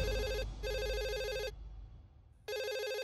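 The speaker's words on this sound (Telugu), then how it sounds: "A phone ring అవుతుందిగా" A telephone bell rings in two loud bursts separated by a pause, then begins ringing again; no one speaks.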